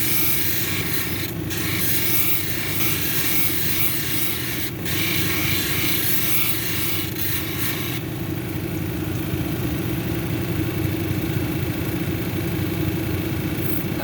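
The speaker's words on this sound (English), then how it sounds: "This is a relatively soft stone, so it shouldn't take long to grind marks off the 80 grit." A soft sodalite cabochon is ground on a 280 grit wheel, making a steady, loud whirring rasp that drones on without pause, with a faint motor hum beneath and no talking.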